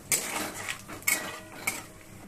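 A utensil scrapes and clinks against a pan while black cumin and dried chillies are stirred as they fry, with three sharp metallic knocks spaced through a short burst of scraping.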